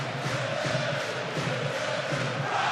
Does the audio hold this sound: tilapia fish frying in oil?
no